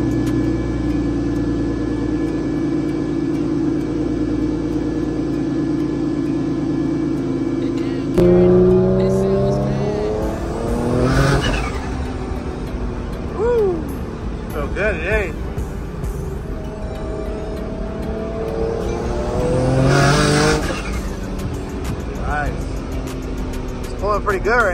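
A rebuilt 700-horsepower Infiniti G37 races a Toyota GR Supra, heard as loud engine drone and revving with rising and falling pitch sweeps from passing acceleration, while people talk over it.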